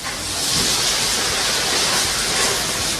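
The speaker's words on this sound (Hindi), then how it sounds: "समंदर की उभरती लहरें, दहाड़ती हवा और बरसता आसमान।" Cyclone Biparjoy lashing the coast: a dense, steady roar of wind, rain and surging sea waves, loud and unbroken without any voices.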